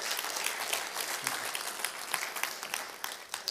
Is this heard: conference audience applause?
yes